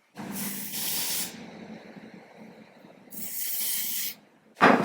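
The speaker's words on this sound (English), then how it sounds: "I am going to just use a little bit of my lace spray" Two long hissing bursts from an aerosol can of lace spray for a lace front wig, each lasting about a second, separated by a quiet pause, followed by a short clatter at the end.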